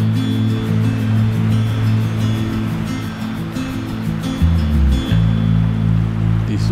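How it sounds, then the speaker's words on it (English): Floodwater rushing like a creek over a submerged footpath, a continuous loud churning flow with a steady low rumble and no pause. "This is usually a path, but now it's a creek."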